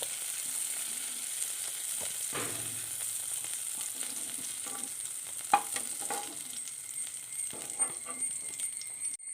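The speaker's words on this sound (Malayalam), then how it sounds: "ഇത് ഇനി കോരിയെടുക്കാം" Cooked okra being scooped out of a frying pan: a faint, continuous sizzle of oil with scattered scraping and clicking of a spoon against the pan, close by and quiet throughout.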